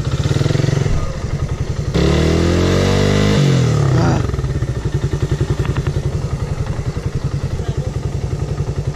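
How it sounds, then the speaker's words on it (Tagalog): A Suzuki Raider 150 motorcycle engine revs and strains on a slippery mountain trail, surging loudly then dropping into a rapid, uneven putter up close. "Halos hindi na maandar yung motor ko."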